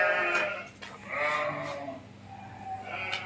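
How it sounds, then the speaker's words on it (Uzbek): A goat bleats repeatedly while being milked, three or four wavering calls at close range, fairly quiet, with no talking. "Sog'ilayotgan echkimiz."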